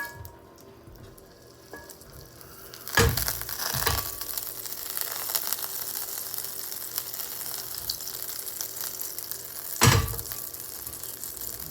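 Oil and butter sizzle steadily in a preheated Falk 11-inch copper skillet, a soft continuous frying hiss broken by a few sharper crackling bursts, close up and with no talking.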